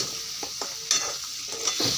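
Browned coriander fries in hot oil for an aubergine bhaji, a close, bright sizzle broken by several quick stirring scrapes of a spoon against the pan, with no one talking.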